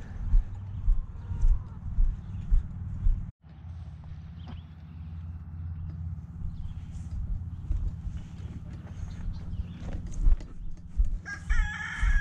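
Chickens cluck and a rooster crows amid a busy barnyard, with scattered thumps and shuffling nearby.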